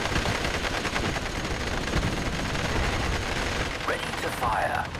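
Dense artillery and gunfire from the WWII strategy game Steel Division: Normandy 44, a continuous loud wash of rapid shots and blasts, with a voice faintly underneath.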